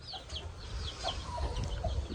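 A black hen with six chicks clucks softly in short, scattered calls against a low rumbling background on a poultry farm, with no one talking.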